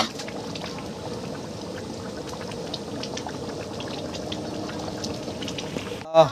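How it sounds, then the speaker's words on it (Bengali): Fried potatoes tipped into a simmering meat curry at an outdoor family New Year picnic, a steady close sizzle and bubbling wash with soft liquid trickles, running evenly before a brief louder clatter near the end. "এরপরে ভেজে রাখা আলুটাকে মাংসের মধ্যে ঢেলে নেওয়া হলো।"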